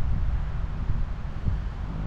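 Steady outdoor wind buffeting the microphone in Hayman Park, New Zealand, a low continuous rumble with no voices present.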